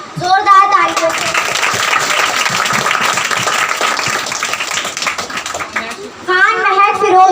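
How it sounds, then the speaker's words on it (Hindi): Loud, dense applause from an audience at a prize distribution ceremony greets a silver medalist, filling several seconds between stretches of an announcer speaking. "जोरदार तालियों से।"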